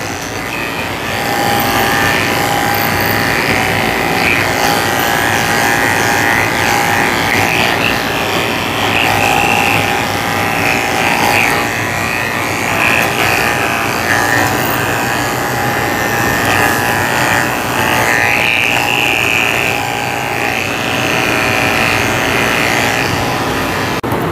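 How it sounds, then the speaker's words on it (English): Electric dog grooming clippers fitted with a 4 blade run steadily down a poodle mix's legs, giving a continuous loud motor buzz with no pauses. "Now I can run the 4-blade back down his legs without missing any hair."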